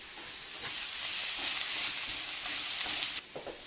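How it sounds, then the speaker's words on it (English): Pork and vegetables stir-fry in a hot pan with a loud, hissing sizzle that swells in about half a second in, holds strongly, then drops away abruptly near the end. "The pork is almost cooked through. Add the rest of the vegetables."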